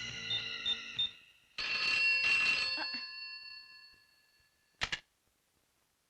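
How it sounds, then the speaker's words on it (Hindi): A telephone in a police station rings and chimes as a call goes out to a hospital, with a bright, tonal ring that swells and then fades, followed by a brief click near the end. "दांडेकर साहब, तनिक अस्पताल में फोनवा तो करके देखिए"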